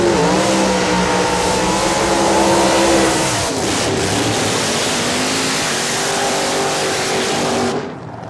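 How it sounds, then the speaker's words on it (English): A 1967 all-steel-body Camaro powered by a 427 Chevrolet engine launches off the line at a drag race, its loud revving roar rising in pitch, then dropping and continuing before cutting away abruptly near the end. "a 67 Camaro, all steel body, powered by a 427 Chevrolet"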